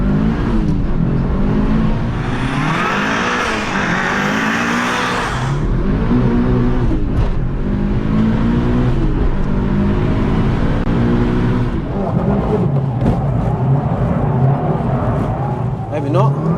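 A Mitsubishi Lancer Evolution VI rally car engine revs and pulls hard in third gear, the note rising and dropping through gear changes, with someone talking over the steady engine noise throughout.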